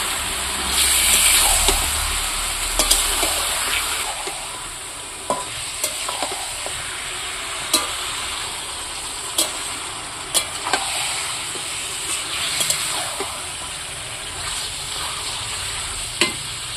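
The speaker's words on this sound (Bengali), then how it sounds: "ম্যারিনেট করা মাংসটা তুলে দিলাম। এইবার আমি ভালো করে এর মধ্যে পেঁয়াজটার মধ্যে ভালো করে নাড়াচাড়া করব।" Marinated mutton sizzling with onions in a pan while being stirred, a loud steady hiss broken by regular spoon scrapes and taps against the pan, close up with no speech.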